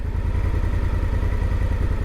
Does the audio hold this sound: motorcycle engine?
yes